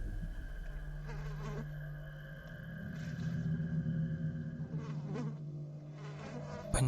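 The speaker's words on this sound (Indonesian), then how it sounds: "Banyak lalat" Flies buzz steadily inside a house, a continuous close insect drone with a low hum beneath, swelling and fading slightly as they move about, with no voices.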